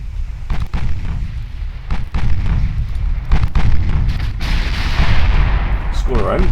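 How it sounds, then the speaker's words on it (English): A torpedo strike explodes in a naval battle in Ultimate Admiral Dreadnoughts, loud rumbling booms and gunfire blasts rolling continuously amid battle noise, with a sharper burst near the end. "Score our own torpedo hit."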